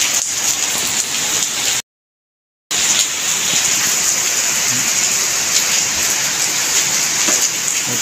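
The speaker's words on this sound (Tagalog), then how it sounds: "Ang lakas ng ulan." Heavy rain pours steadily and loudly on a surface at Morong, a dense continuous hiss with a brief cutout partway through, no voices.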